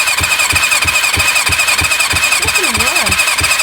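A Kawasaki ZL600 Eliminator engine cranks over with the throttle wide open for a compression test, giving a loud, even chug of about three beats per second, with a brief wavering squeal or voice midway.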